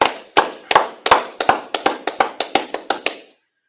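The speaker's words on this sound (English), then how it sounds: "All right, clap it up." A group clapping in unison at a street gathering, about a dozen sharp, evenly spaced claps that start slightly ragged, settle into a steady rhythm and then stop, heard fairly close with no talk over them.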